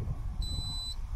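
An EVO 2 Pro drone remote controller gives a single clear high electronic beep at power-on, about half a second long, over low background rumble.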